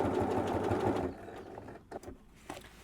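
A sewing machine stitches a shirt alteration in a loud, steady run for about a second, then stops, leaving quiet handling sounds and small clicks as the fabric is adjusted.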